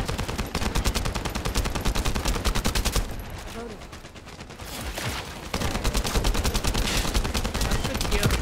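Rapid bursts of automatic gunfire from a shooter looter video game ring out close and loud, pausing briefly midway before resuming, with some voice in between.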